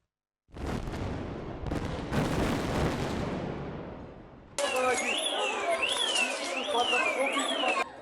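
A loud industrial gas cylinder explosion in İzmir bursts in with a roaring, crackling rumble that slowly fades, then a wailing siren-like tone rises and falls repeatedly.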